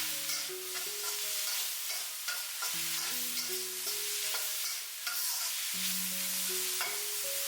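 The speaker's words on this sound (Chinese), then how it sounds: "快速翻炒均匀，把苦瓜炒至入味。" Bitter gourd stir-fries in a wok with a steady close sizzle, as the spatula scrapes and tosses the pieces in a repeated rhythm.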